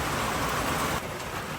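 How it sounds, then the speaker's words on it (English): Rain falls steadily along the Appalachian Trail in Connecticut, a dense, even hiss close by that drops slightly softer partway through, with no talking. "Well, the rain has started again."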